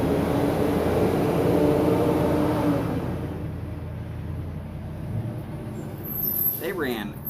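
A heavy garbage truck engine rumbles loudly up close, then recedes, with hissing and a rising mechanical whine near the end.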